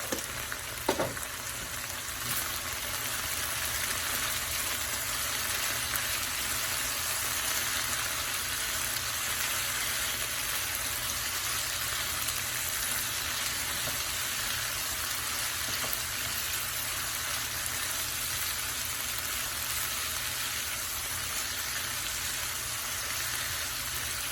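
Okra frying steadily in a pan with turmeric and dried chili powder, a dense continuous sizzle that holds level throughout with no talk, aside from a brief clink near the start.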